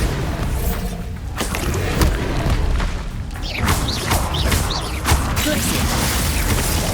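A Bombarda spell in Hogwarts Legacy goes off amid a run of heavy booms, crashes and thuds with sharp impacts and whooshes, loud and continuous.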